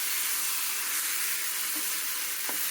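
Ivy gourd, green chillies and brinjal frying in a pan for a Telugu-style chutney, a steady close sizzle and hiss with a couple of faint stirring clicks near the end.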